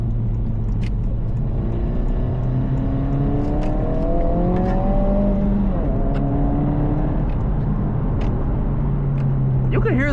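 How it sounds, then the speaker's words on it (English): An 11th-generation Honda Civic Si pulls through the gears on a late-night drive, its turbocharged engine droning steadily from inside the cabin, with rising tones as it accelerates and someone talking over the engine. "You can hear that turbo, man."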